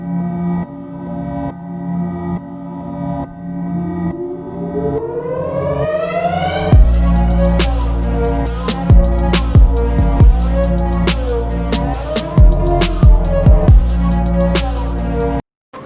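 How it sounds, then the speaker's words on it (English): Siren Head's siren from a horror video game wails loudly, its pitch rising in a long sweep into a blaring, pulsing tone punctuated by sharp hits, then stops abruptly. "Siren Head's sound echoes into the victim's mind"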